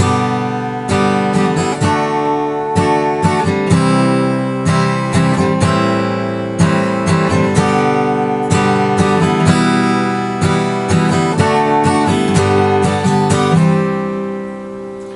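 A guitar strums a steady chord progression, loud and close, with rhythmic strokes and regular chord changes and no voices.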